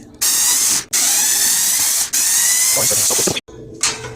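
A power screwdriver and drill whine loudly in long bursts, stopping briefly between runs, with a short final spurt after a pause, working on a 2021 AeroSpeed BX100 box fan.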